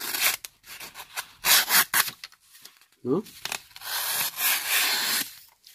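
A Spyderco SpyderCard folding card knife with a serrated factory edge saws through a doubled sheet of paper in several short rasping strokes, close up, with a brief spoken word partway through.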